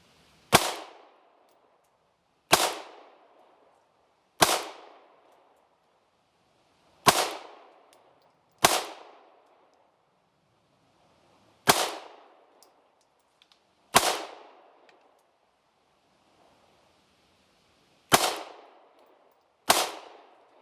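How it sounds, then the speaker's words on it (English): Nine loud, sharp gunshots from a Springfield Armory Hellcat 9mm pistol at a shooting target, each a sudden crack with a short ringing decay, spaced irregularly a second or two apart. "See if I can get a few more rounds on this target here."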